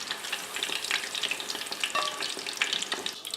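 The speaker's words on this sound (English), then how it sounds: "I'm going to throw them directly into the frying pan." Busy sizzling and crackling of shrimp frying in a hot pan, with rapid popping and a faint stirring scrape, continuous and close.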